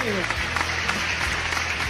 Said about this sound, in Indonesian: tepuk tangan dulu untuk Bang Gibi